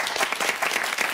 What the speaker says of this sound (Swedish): Kvällens första applåder